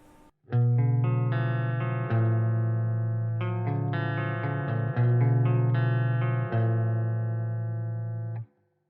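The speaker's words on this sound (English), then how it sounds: "I'll turn the reverb right up." Electric guitar played through a Randall RH300 G3 amp with the reverb turned all the way up, a series of loud sustained distorted chords that ring out with a reverb tail and fade at the end.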